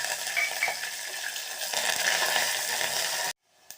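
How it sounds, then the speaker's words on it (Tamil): Green chili, ginger and curry leaves sauté in hot oil for a South Indian masiyal, a close, steady sizzling crackle that stops abruptly, followed by a faint knock. "பச்சை மிளகாய், இஞ்சி, கருவேப்பிலை எல்லாத்தையும் போட்டு வதக்கிக்கலாம்"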